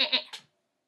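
A sheep bleats once in a short, close, wavering call, used as a storytelling sound effect, then falls silent.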